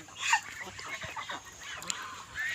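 Several loud honking calls from waterfowl, scattered and overlapping, close by against a noisy outdoor background.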